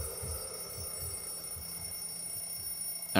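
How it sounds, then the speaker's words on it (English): An alarm clock rings on a bedside table in the visual novel Everlasting Summer, a steady repeating buzz in short regular pulses, fairly faint and alone, ending in a sharper burst. "saw the ringing alarm clock on the bedside table, knocked it off and dozed off again"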